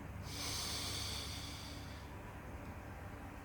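One deep inhalation during a relaxation breathing exercise, a soft airy intake building quickly and then easing off, close and quiet.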